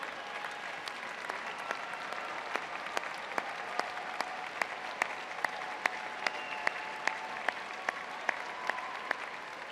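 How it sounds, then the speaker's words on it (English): Steady applause from a commencement audience for the graduates' families, a dense even patter of many hands held at moderate level for the whole stretch, with a few sharper nearby claps standing out. "graduates, let's give them a round of applause"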